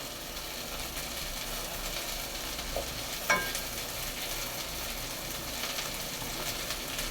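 Mint and coriander leaves sautéing in a pan for a urad dal chutney, a quiet continuous sizzle with light stirring scrapes and one brief sharper clink midway.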